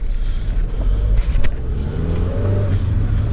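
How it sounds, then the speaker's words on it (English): Inside a car, the engine runs smooth and subdued, a low steady hum with a light whoosh and a brief rise in pitch, heard from the cabin with no one speaking. "Listen how quiet this car is."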